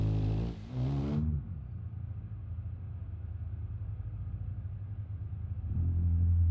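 A low, steady car engine rumble idling along in the BeamNG.drive video game, with a short whining rev at the start and a louder swell near the end.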